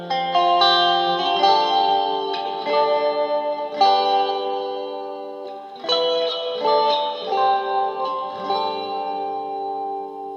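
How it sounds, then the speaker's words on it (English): Clean electric guitar chords on a G&L ASAT Junior Tribute ring out with a shimmering delay and spacious reverb, each strum trailing off into echoing repeats. "if you add a delay and a bit of reverb to that, you can get that, fusion-esque tone for chords"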